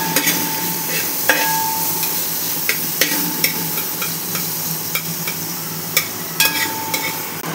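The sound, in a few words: onions sautéing in a pan on medium flame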